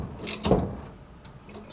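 Bolts being tightened on a quick-disconnect steering wheel on a 1965 Mustang, a few close mechanical ratcheting clicks and metallic turns over a low room hum, without talk.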